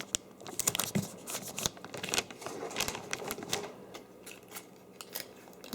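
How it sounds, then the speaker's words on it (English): Tape is pulled and torn off in pieces while a gift is wrapped, with close crackling rips, crinkling paper and light tapping in an uneven busy stream. "Another piece of tape right here."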